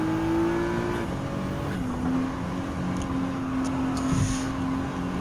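Race car engines drone steadily while overtaking a 2014 Corvette Stingray in Gran Turismo 7, the engine pitch holding and shifting as gears change, with a continuous close mechanical hum and no voices.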